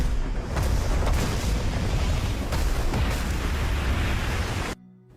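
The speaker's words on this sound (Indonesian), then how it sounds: "Surya berhasil meledakkan bom itu di tempat sepi yang jauh dari keramaian" A bomb in the action film Sooryavanshi goes off in a deserted spot, a dense, loud rumbling blast roaring broadband for several seconds before cutting abruptly to near silence.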